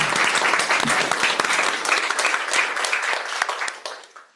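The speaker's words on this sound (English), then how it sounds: "So kudos and a thunderous applause for all of you." Thunderous applause at a school board meeting for a high school sports team, dense and loud from a close crowd, steady throughout and then thinning out and fading at the very end.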